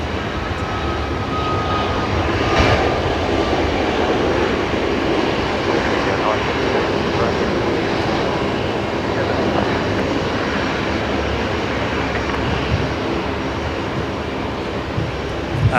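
A Boeing 737 MAX 8 departing runway 01 right at Brisbane Airport at night: a loud, sustained jet roar with a broad rushing quality that holds steady for the whole stretch, heard from a spotting position.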